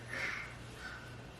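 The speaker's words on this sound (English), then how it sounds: "there's a bunch of crows by the chicken." Several crows caw near a chicken coop on a morning outdoors, two short harsh calls a moment apart, moderately close over a low steady hum.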